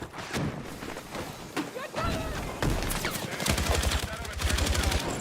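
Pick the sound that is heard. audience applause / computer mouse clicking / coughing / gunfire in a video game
gunfire in a video game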